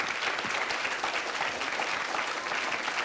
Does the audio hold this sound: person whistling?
no